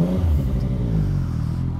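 A Yamaha MT-09 motorcycle engine rumbles loud and close, its pitch shifting through a brief rev before settling into a low, steady growl.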